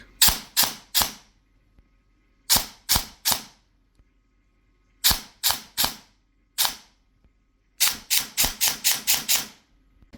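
An airsoft gun with a V3 gearbox fires in sharp, close shots. They come as quick doubles and triples, a few single shots, and a closing rapid string of about seven, with silent gaps between groups.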